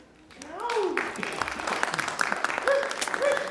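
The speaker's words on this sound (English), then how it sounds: "graduates, give them a round of applause" An audience at a 2014 commencement ceremony applauds the graduates, with dense, steady clapping swelling after a second and continuing while a voice talks over it.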